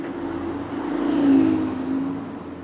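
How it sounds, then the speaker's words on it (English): Red London buses pass along a street in Hackney, giving a steady engine rumble that swells to a peak midway and then eases, heard close with no voices. "These are red buses."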